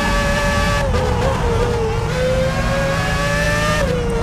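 An F1 car engine screams at Monza in the PS2 game F1 2006, a loud, constant high-revving tone whose pitch dips briefly on gear changes, with no talk over it.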